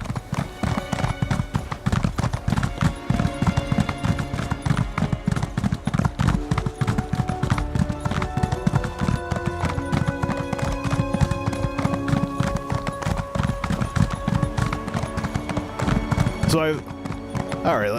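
Horse hooves clip-clop steadily and close while riding through an open area at sunset in Elder Scrolls Online, a continuous rhythmic trot with game music and a voice talking over it throughout.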